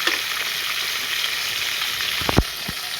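Food fries steadily in hot oil until it colours, a dense continuous sizzle with a few short utensil knocks and stirring clatters near the end.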